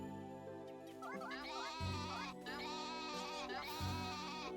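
Sheep in the farming video game Story of Seasons: A Wonderful Life let out a series of wavering, nasal bleats, several overlapping calls in quick succession, fairly quiet and clear with no talking.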